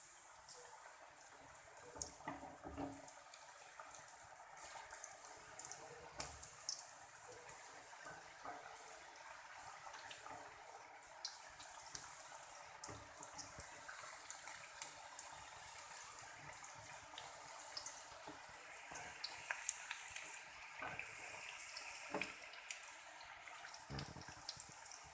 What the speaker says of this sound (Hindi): ये हाथ की मदद से हम अपने चिप्स को फैला के इसमें डालेंगे।